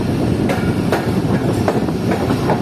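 Shah Latif Express passenger train running on rails between Karachi and Mirpurkhas, a loud, continuous rumble from on board with rhythmic clacks of wheels over rail joints and occasional metallic knocks.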